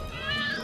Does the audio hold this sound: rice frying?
no